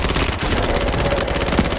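Rapid automatic gunfire in Call of Duty Warzone, a loud, close, unbroken burst of quick shots lasting under two seconds.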